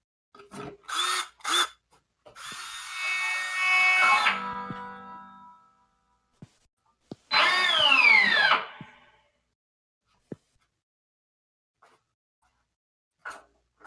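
Electric guitar sounded with a power drill held against it, giving two sustained, buzzing drones of a couple of seconds each, with short plucked bursts before and a few faint clicks after in otherwise quiet surroundings.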